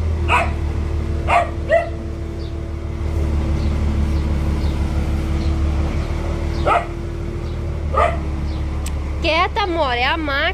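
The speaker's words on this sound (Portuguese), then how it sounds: "A Mora fica latindo a máquina" A dog barks at a working machine, sharp yips and barks spaced across a steady low mechanical rumble, with a higher whining tone near the end.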